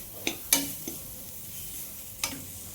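Ginger, garlic, onion and green chili frying with a pinch of turmeric in a pan for a fish mustard-seed dish, giving a soft steady sizzle broken by a few sharp scrapes and clinks of stirring.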